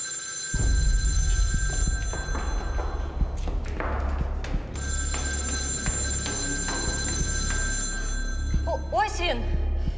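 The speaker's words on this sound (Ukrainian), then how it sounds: "Це що, телефон? Дзвінок, як у старих стаціонарних." An old-style landline telephone bell rings repeatedly from somewhere overhead, fairly loud and steady, with occasional thumps and a voice speaking briefly near the end.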